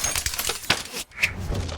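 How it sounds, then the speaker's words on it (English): Glass smashing sound effect for a fantasy audio drama, a quiet bright crash and tinkle of shards amid muffled rustling, with a brief second chink after a short pause. "And then glass smashing sound."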